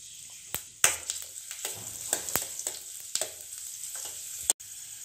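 Chopped garlic frying with fennel seeds in hot oil in a pan, with sharp, irregular crackling pops spaced over a soft, steady sizzle, heard close up.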